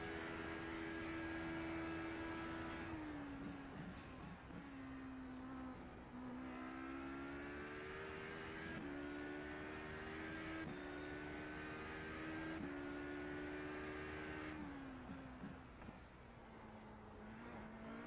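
A race car in the iRacing sim screams through quick upshifts, the engine note stepping down and climbing again several times in a steady rhythm, loud and continuous with no talk.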